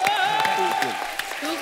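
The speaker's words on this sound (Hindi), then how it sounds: "देखो जरा तालियां होनी चाहिए" Brief audience clapping on a televised Indian music show stage, heard under singing and lively voices with musical tones over the top.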